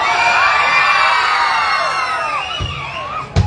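A loud crowd of boys shouting and cheering together in a sustained, dense roar, with a sharp burst near the end.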